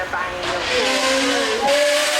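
A race car at the Goodwood Festival of Speed hill climb revs hard nearby, its engine rising and dropping in pitch with pops and bangs on the overrun, all over a continuous roar.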